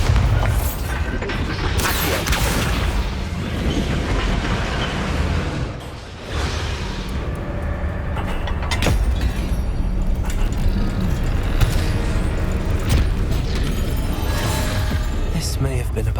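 A Bombarda blast spell explodes in the Hogwarts Legacy video game, with a heavy boom and whooshing bursts over a continuous, dense wash of game effects and rumble.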